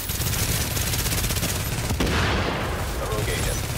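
Rapid turret gunfire from the video game Tomato Team: Rogue Chronicles rattles in a dense, continuous burst of shots, loud and close, with a heavier blast partway through and a voice beneath the shooting.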